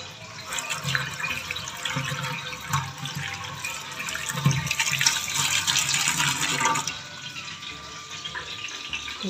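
Tomatoes are washed under a running kitchen tap, with a continuous splashing gush that swells and ebbs as the fruit moves in the stream, close and fairly loud, easing off toward the end.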